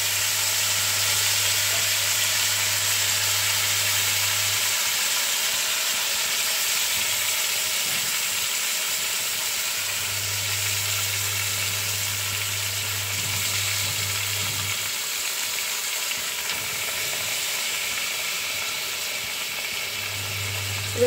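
Chicken frying in hot ghee gives a steady, close, dense sizzle that runs unbroken throughout, with a low hum coming and going underneath.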